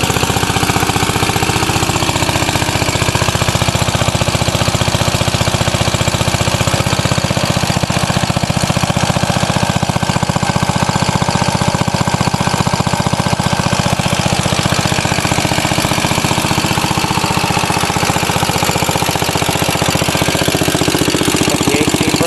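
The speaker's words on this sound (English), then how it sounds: "It's a pretty nice running unit. 1800 RPM, that's how I like them." A 1944 Signal Corps power unit engine running steadily at 1800 RPM, giving a loud, close, continuous chugging drone that holds even throughout, with no voices.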